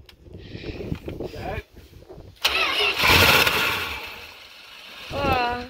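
A 1978 Plymouth Trail Duster's engine being cranked and struggling to start, a rough, uneven roar that surges and sags, with people talking nearby before and during the attempt.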